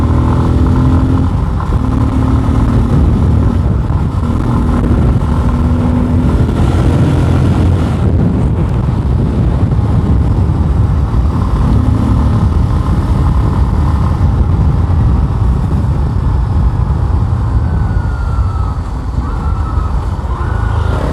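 A Bajaj Pulsar N250 motorcycle engine hums steadily while riding, with continuous loud engine drone and wind rush throughout, no talk.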